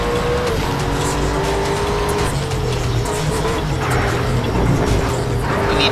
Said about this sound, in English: everyone is racing in a Austin Martin DB9 coupe